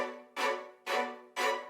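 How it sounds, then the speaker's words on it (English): Violin spiccato in an Asian bedroom R&B arrangement plays bouncy, bowed string notes in a steady pulse of three strong strokes over a faint sustained tone. "violin spiccatos,"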